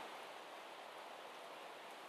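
Rain falls steadily as a soft, even hiss of droplets, faint and constant throughout with no voices over it.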